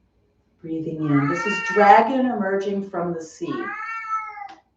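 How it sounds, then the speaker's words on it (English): An old cat meows loudly in a long, wavering, drawn-out yowl followed by a shorter cry, heard over a quiet indoor qigong practice while an instructor speaks. "And that's my cat."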